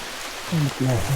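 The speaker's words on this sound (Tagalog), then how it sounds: "umuulan pa" Rain falls during a bikepacking ride on the road to Real, Quezon, via Paete: a steady broadband hiss runs throughout, and a voice comes in over it partway through.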